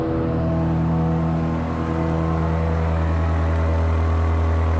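A steady, loud BMW XM SUV engine idling and humming with a deep droning tone, holding evenly throughout without pauses.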